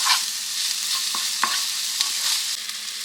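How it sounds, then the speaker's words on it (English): Leftovers frying in a pan with homemade taco seasoning as a spoon stirs them, giving a steady soft sizzle broken by a few sharp scrapes and clicks against the pan, close and alone with no voices. "Get that stirred up in there"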